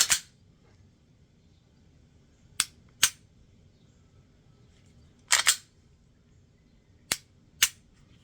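Sharp mechanical clicks from a Glock pistol's trigger resetting, heard close and alone: one at the start, a pair near the middle, a tight double a little later, then two final clicks spread across a quiet background.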